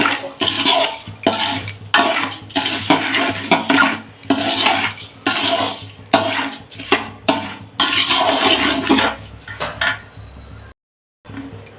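Rice being stirred and fried in ghee in a pot, heard as repeated scraping and rattling stirring strokes with a sizzling wash, loud and close, pausing briefly near the end.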